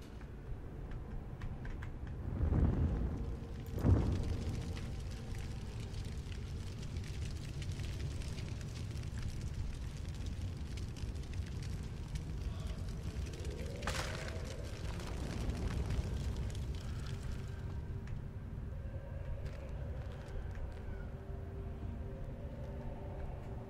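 Fire crackling and roaring in the horror game Agony, a steady broadband burn running the whole time with a couple of sharper flare-ups near the start and a swelling burst midway.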